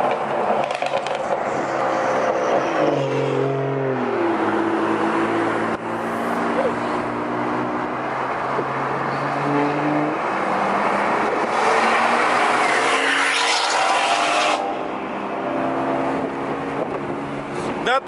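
A loud BMW E46 drift car engine revs hard, its pitch rising and falling repeatedly, with wind buffeting and occasional voices underneath.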